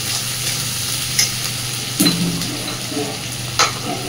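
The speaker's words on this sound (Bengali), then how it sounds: "ঘিয়ের মধ্যে আস্ত গরম মশলা ফোড়ন দিয়ে এইভাবে পেঁয়াজ কুচি, চেরা কাঁচা লঙ্কা এগুলো সব দিয়ে একসাথে করে ভাজতে থাকলে" Chopped onion and slit green chillies frying in ghee with whole spices, a steady close sizzle under occasional spoon scrapes and a few sharp knocks against the pan; no talking.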